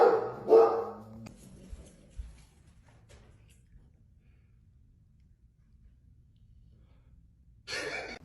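A guard dog lets out a couple of sharp, close barks right at the start, then the scene falls to near silence before a brief burst of noise near the end.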